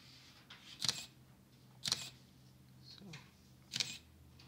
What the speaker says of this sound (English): you can hear the camera